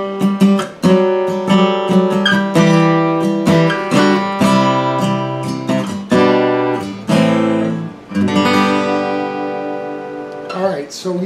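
Acoustic guitar playing the outro rhythm of a song, with steady strummed chords and choppy accents, walking down the neck over about eleven seconds, close and loud.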